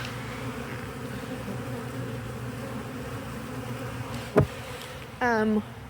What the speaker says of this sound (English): there's just a flurry of activity right now that the bees are trying to make their way in to the new hive